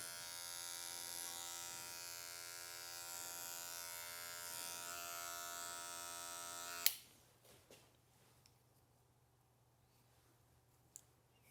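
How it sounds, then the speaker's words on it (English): Electric hair clippers buzz steadily while trimming hair clipper-over-comb in a beard and hair grooming session, a close continuous whine that cuts off abruptly, followed by faint handling clicks and quiet. "So I'm going to kind of do clipper over comb again."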